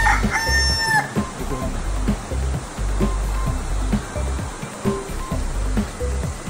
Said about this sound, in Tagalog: Huni ng ibon, naririnig nyo.